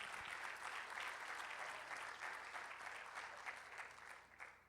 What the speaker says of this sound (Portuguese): Dê uma saúde de palmas bem forte para Ele